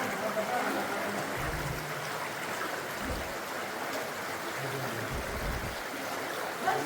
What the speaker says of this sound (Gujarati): જો હવે આ પાણી અહીંયા આવે છે જોરદાર.